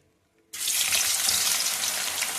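Bitter gourd pieces fry in oil like pakoda, starting with a sudden hiss that settles into a steady, loud, bright sizzle after near silence, with no voices.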